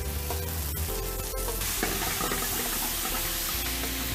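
Thai chili spaghetti sauce is stirred in a hot pan, a dense close sizzle with scraping and a few utensil knocks in the first second or so, continuing steadily without speech.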